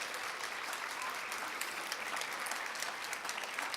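An audience at an American Legion Auxiliary award ceremony gives a round of applause for the opening entertainment, a swing band: a steady, fairly quiet roar of many clapping hands, sustained evenly without pause.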